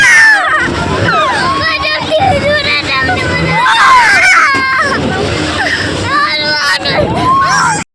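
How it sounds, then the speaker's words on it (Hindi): Riders scream and shout on a fairground swing ride at a Delhi fair, a loud, shrill, overlapping crowd of high-pitched yells and excited voices rising and falling close by. "आई होप हमारी चीखें सुन के आपके कान फटे नहीं होंगे"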